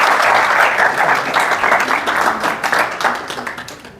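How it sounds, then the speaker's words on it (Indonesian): A youth congregation at a church retreat bursts into applause, a dense, steady wash of many hands clapping close by that slowly thins toward the end. "Tepuk tangan dulu"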